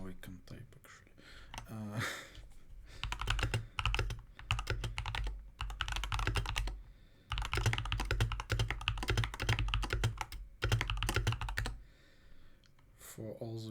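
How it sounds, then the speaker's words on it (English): Rapid, dense clicking of a computer keyboard being typed on, close to the microphone, runs nearly continuously with brief pauses, while a person talks over it. "Now I can type actually."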